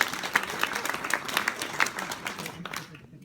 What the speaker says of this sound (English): can we give our stars a round of applause?